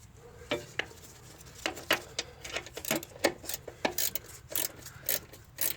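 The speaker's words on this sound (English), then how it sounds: "I'll try to work it out with my little ratchet wrench" A small ratchet wrench turns out a transmission bolt while replacing the CVT in a 2011-2015 Nissan Rogue, giving quiet, close clicking in irregular bursts with light metallic rattles between them and no talk.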